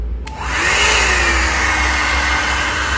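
A HODEKT 2-in-1 hot air brush comb is switched to middle mode: a brief click, then a steady, loud blowing whir with a faint whine that holds close and constant.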